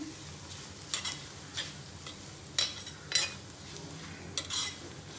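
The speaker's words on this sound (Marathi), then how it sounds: "छान एकत्र करून घ्यायचं मिक्स असं" Garlic, coriander and peanut chutney being stirred and mixed with salt, giving a few soft scraping and clinking spoon strokes spaced irregularly over quiet background, with no voices.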